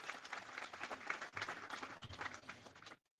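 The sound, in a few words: crowd applause at chariot festival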